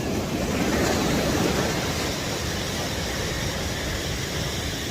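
Ocean surf rolls in at Smith Point beach, a steady loud wash of breaking waves with no pauses and no voices.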